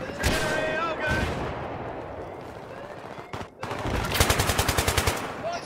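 Gunfire in the Battlefield video game, Rush mode on the Grand Bazaar map: scattered single shots give way to a rapid, evenly spaced automatic burst that is loud and close.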